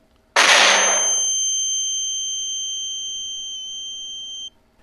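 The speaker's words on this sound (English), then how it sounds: "suddenly a flashbang falls by them and goes off" A flashbang grenade goes off with one sudden loud blast. A sustained high-pitched ringing tone follows, fades slowly for about four seconds and then cuts off.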